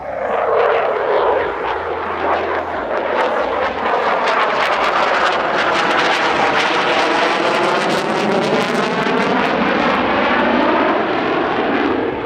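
A Eurofighter jet roars past at an airshow in Leszno, a loud continuous engine rush that rises and sweeps through with a shifting, phasing tone, dominating the whole stretch.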